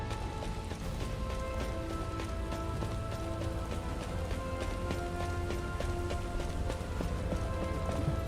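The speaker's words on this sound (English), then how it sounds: "This rain is really coming down." Heavy rain falls steadily for the whole stretch, a dense, even patter with close drops striking a surface and no voices.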